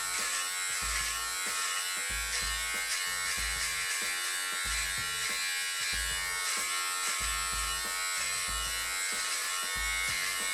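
A BaByliss precision beard trimmer cutting facial hair, a steady close electric buzz with repeated low bursts as the blades pass through the hair, without talking.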